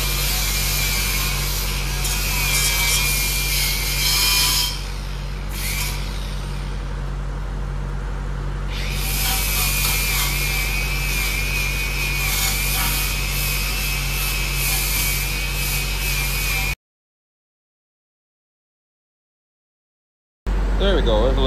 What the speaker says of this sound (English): get the little mechanical wire brush going, give it a bit of a touch up